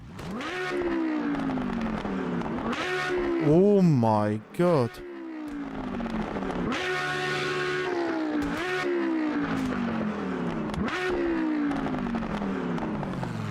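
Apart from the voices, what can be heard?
race car engine revving in Automobilista 2 sim racing game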